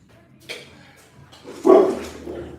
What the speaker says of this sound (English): It's my Rottweiler barking at the neighbors.